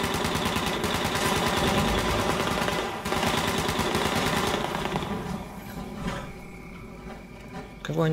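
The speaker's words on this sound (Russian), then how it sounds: "Они стреляют." Rapid automatic gunfire in the video game Fallout 76 during the Scorched Earth event, a dense stream of shots for about five seconds that tapers into quieter mechanical clatter and ambience.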